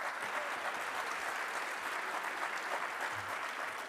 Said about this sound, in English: So please give a round of applause for our partner,